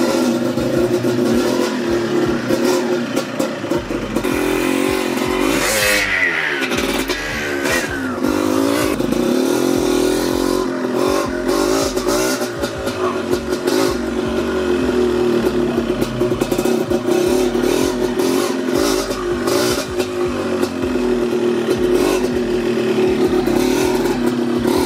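A 1995 Yamaha DT125 enduro motorcycle with a noisy clutch housing runs steadily on a test drive, its two-stroke engine buzzing loud and close the whole time, with a couple of revving surges and no talk.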